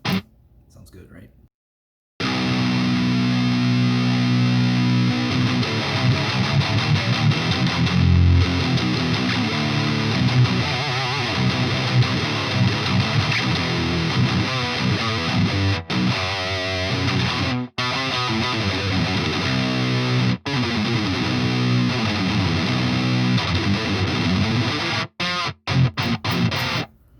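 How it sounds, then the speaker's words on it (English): Distorted electric guitar played through amp-sim distortion in Reaper for budget metal, a loud, dense sustained tone with steady chugging riffs and a few brief dropouts. "Let's throw some distortion, right?"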